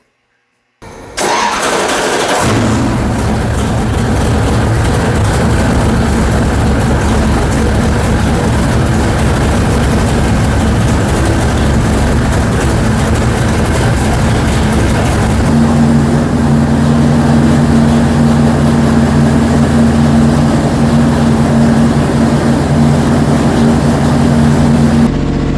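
Rebuilt 454 engine on a dyno cranks, fires and settles into a loud, steady rumbling run that shifts to a slightly different note partway through, with no talking.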